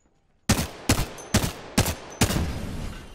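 Video game gunfire rings out as five loud, evenly spaced shots in about two seconds, each sharp and close with a short ringing tail, after a brief quiet start.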